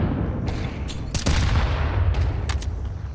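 Grenade explosions and gunfire in a competitive shooter game: continuous low rumble with several sharp bursts and crackling shots layered over it, loud and close throughout.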